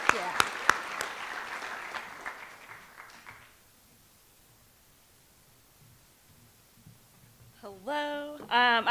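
A crowd at a senior awards ceremony gives a short round of applause that fades out within a few seconds, and then a voice starts speaking over a microphone.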